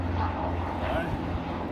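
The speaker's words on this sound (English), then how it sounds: "Helicopters on a windy day." Helicopters pass over a city on a windy day, heard as a low, steady distant engine drone mixed with wind noise for a couple of seconds.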